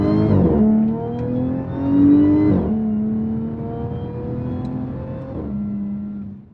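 An Audi S4 B8 fitted with an Integrated Engineering silicone intake and AWE touring exhaust revs three times, each sharp blip rising then settling back to a steady idle, close and loud.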